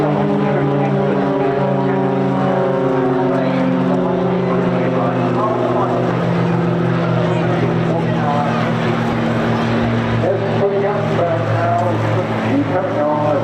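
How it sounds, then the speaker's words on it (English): An aircraft flying a solo display at the Bournemouth Air Festival airshow, a loud steady engine drone with shifting harmonic tones throughout, heard beneath continuous commentary. "The aircraft is flying solo."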